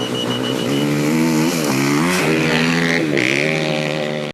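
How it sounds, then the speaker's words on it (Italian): Luca Colombo's motocross bike revs hard before crossing the Strait of Messina, a loud, close engine whine that climbs and dips through several throttle blips, rasping and continuous to a sudden cut. "Luca Colombo ci proverà sulla sua moto da cross"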